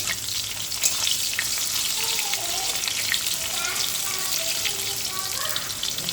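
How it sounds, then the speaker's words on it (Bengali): Green plantains fry in hot oil in a pan, giving a steady, close sizzle and crackle that runs without a break, with faint bubbling and occasional small pops. No one speaks. "এবার আমি কাঁচকলাগুলো ভেজে নামিয়ে নেব।"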